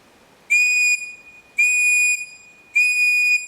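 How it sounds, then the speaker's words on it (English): Three short, shrill blasts on an OEX survival whistle, each lasting about half a second with even pauses between, loud and clear outdoors with nothing else around them. "We're going to use 3 short blasts and see if we can hear him."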